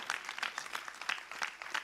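An audience at a live Gujarati comedy show claps in a brief, faint burst of scattered applause, with rhythmic hand claps throughout and no voices.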